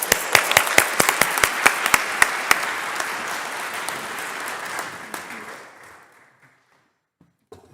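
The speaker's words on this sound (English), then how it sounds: "Everyone, please, a hand of applause for Jocelyn Dorsey." Audience applause at a mayoral debate at Emory University: a few sharp early claps swell into steady clapping from a sizable crowd, then thin out and fade to near silence after about six seconds.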